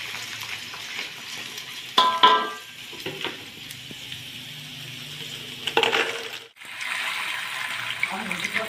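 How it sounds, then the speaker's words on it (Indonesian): Krupuk crackers fry in hot oil in a home kitchen, giving a steady hiss and crackling sizzle with a few louder bursts of bubbling and stirring, close and continuous. "Mula-mula kita goreng kerupuknya."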